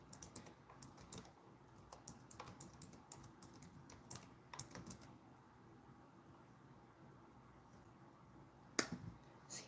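Quick bursts of typing on a computer keyboard, soft clicky keystrokes in short clusters with pauses between them, close but quiet, with no talking.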